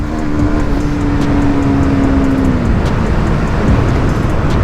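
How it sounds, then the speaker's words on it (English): A motorbike pulls hard from third gear at full throttle, a strong engine drone under heavy wind and road noise, close and continuous. "I'm on the third gear, 42 speed, and then I'm going to just pull the throttle"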